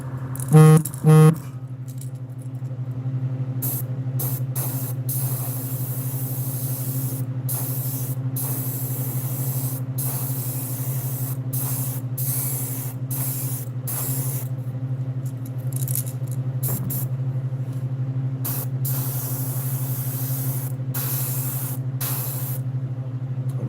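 An airbrush sprays paint onto fishing lures in a steady, unbroken hiss that runs the whole time. A brief louder burst comes at the start, and no one speaks.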